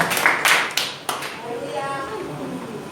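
Church congregation clapping hands, a few sharp claps at the start followed by scattered, fading hand claps in a reverberant room.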